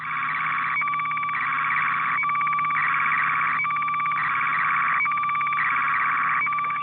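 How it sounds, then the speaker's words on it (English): Slow-scan television picture signal received on shortwave radio, a loud warbling electronic tone that steps between pitches in a regular repeating pattern over steady background hiss, with no voices. "This is the sound of one of those pictures building up."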